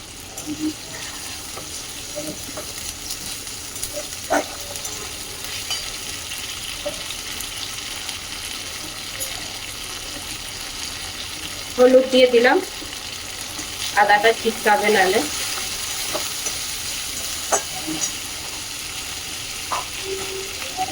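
Green chilies and ginger paste fry in a pan with a steady, continuous sizzle. A few louder bursts of stirring and clattering break in near the middle, and occasional small clicks come through the hiss.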